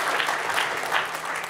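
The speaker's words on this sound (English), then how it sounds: "Should give him a big round of applause for that." Studio audience applause on a business pitch panel show, a short burst of steady, dense clapping heard alone.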